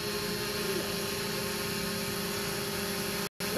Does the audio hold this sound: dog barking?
no